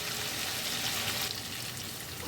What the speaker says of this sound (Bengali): চিংড়ি মাছ হালকা করে ভাজতে হবে